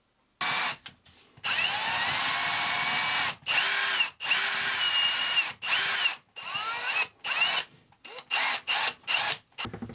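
Close power drill boring a slightly larger hole into a hollow wall, whining in long bursts then stopping and restarting in short rapid pulses toward the end.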